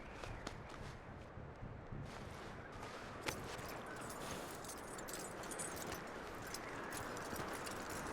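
Horse hooves clip-clop at a walking pace in the video game Red Dead Redemption 2, a sparse series of soft thuds set against a dense wash of ambient game sound, with no speech.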